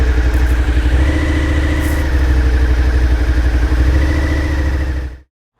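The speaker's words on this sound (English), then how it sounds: "as you release the clutch, the RPMs rise to help you give a little bit of push off the start" A 2017 Suzuki SV650 motorcycle engine rumbles loud and close at low revs as the clutch is released and the bike pulls away, its steady pulsing note holding for about five seconds before cutting off abruptly.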